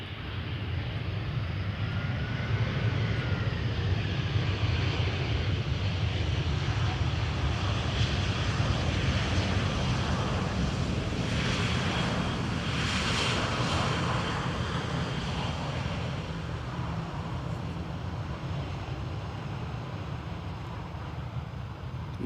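An EasyJet airliner at Amsterdam Schiphol Airport, its jet engine roar steady and broad for the whole stretch, swelling slightly midway as it passes, with wind and airport ambience underneath.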